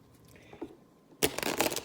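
A deck of cards shuffled during a tabletop game, a quiet pause and faint handling giving way to a loud, fast riffle of flicking cards up close.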